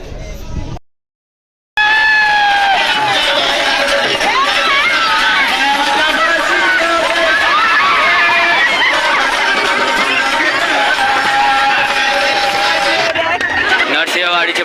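A dense crowd fills the market at Narsinhwadi, a loud, close hubbub of many overlapping voices and chatter that continues steadily after a brief moment of silence.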